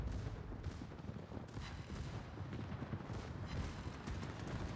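Secondary battery guns fire continuously from the battleship Tirpitz in World of Warships, a dense run of booming shots and rumbling blasts that overlap into a steady barrage.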